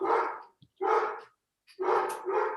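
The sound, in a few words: dog barking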